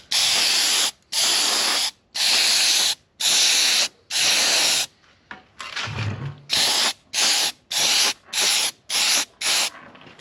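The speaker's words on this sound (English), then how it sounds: "So I've just got my little critter spray gun, and I'm going to this is a water-based sanding sealer, so I'm just going to put two light coats" A small critter spray gun sprays water-based sanding sealer onto a hand-routed wooden sign, loud close hissing bursts of about a second each, repeated in a steady rhythm with short pauses between passes.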